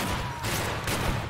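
Musket volley fire from the video game Battle Cry of Freedom during a Gettysburg battle, a dense rolling crackle of many shots blending together, loud and continuous over the short span.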